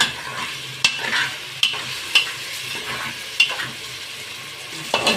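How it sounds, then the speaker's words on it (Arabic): Minced garlic with other ingredients frying in a pan for Libyan mbakbaka with sausage, steady sizzle under repeated sharp spoon scrapes and clinks from stirring, close and fairly loud, no talking. "هنقلبهم بقى كويس كله مع بعض كده اهو"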